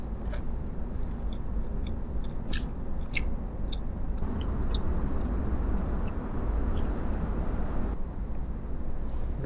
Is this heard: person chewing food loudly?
yes